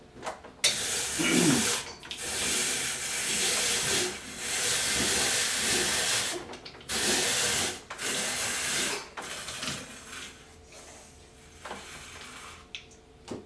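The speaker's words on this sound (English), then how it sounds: "we're just going to grate up the potato on the #1 cone" A scrubbed whole potato grated on a #1 cone slicer, heard as loud rasping bursts of shredding, each lasting a second or two, separated by short pauses and trailing off toward the end.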